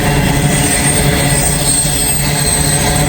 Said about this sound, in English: we've got an empty grain train coming here